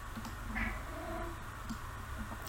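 A whiny cat meows once, faint and drawn out, over a steady background hum.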